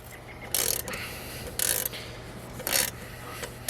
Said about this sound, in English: Now he gets his 7/16" wrench and he starts working on these. Okay, he's going to loosen the nut and bolt.